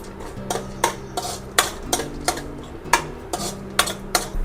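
A spoon scrapes and taps rhythmically in a hot pan of mustard seeds, cumin and chana dal tempering for crispy okra fry, giving about a dozen sharp metallic clinks close up over a low steady hum.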